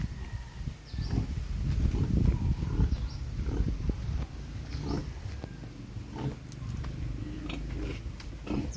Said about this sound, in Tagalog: Yung baboy ay nasampahan na.